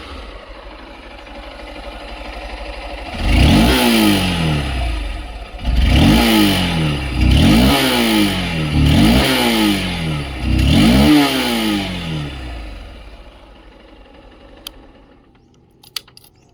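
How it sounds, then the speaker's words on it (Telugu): A Honda SP 160 motorcycle, 2024 model, blips its throttle in five sharp, loud revs that rise and fall back to idle, close by, with the engine settling and a couple of faint clicks at the end. "ఇప్పుడు ఈ బైక్ యొక్క ఎగ్జాస్ట్ నట్ అయితే ఒకసారి విందాం."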